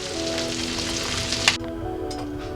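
Chili butter garlic shrimp sizzling steadily in a pan, a close, continuous frying hiss with a faint clink partway through before the sizzle quiets a little.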